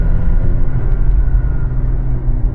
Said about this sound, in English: Hear exhaust.